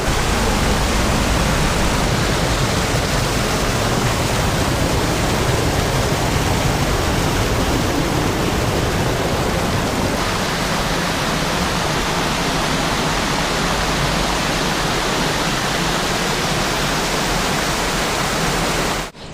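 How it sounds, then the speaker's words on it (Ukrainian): Water rushes and churns steadily in a whirlpool below a waterfall in the Buky canyon on the Hirskyi Tikych river, with the flow running low. It is a loud, continuous roar with no break and no voices. "Ось він сам вир, води зараз мало."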